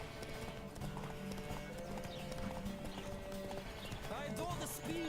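Steady clip-clop of a galloping horse racing in The Witcher 3, continuous hoofbeats under game music and ambient effects while someone talks over the action.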